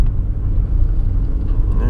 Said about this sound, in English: I'll just park the car